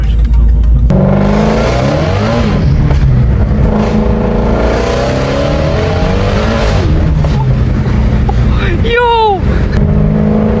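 A 1,000-horsepower Shelby GT350 revs hard and spins its tires, loud and sustained engine roar with tire squeal building over it, while people talk and shout nearby.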